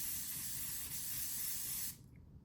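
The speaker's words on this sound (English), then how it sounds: "So it comes in a nice aerosol, I think. Ooh, it's a very fine mist" Laura Mercier Translucent Hydrating Setting Spray releases a very fine aerosol mist as one continuous close hiss lasting about two seconds before stopping sharply, with no one speaking.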